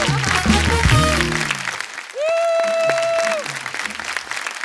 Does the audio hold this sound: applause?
yes